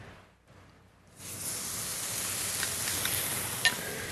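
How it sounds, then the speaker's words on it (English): Leg of lamb hits a hot grill: steady crackling sizzle begins after about a second of quiet and holds evenly, with a brief sharper pop near the end; no voices. "That's what I'm looking for, a little sizzle. That tells me my grill is nice and hot."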